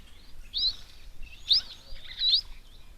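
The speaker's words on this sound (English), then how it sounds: "And there's some sparrows landing there now." A few short, high chirps from sparrows, faint and spaced apart, over a quiet outdoor background at a waterhole.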